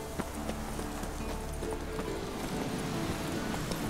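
Roach, the horse in The Witcher 3, gallops along with a steady clip-clop of hooves, a brisk, rhythmic thudding that runs throughout at moderate volume over a soft ambient background.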